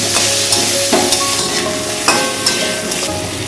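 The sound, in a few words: fish heads frying and stirred with spice paste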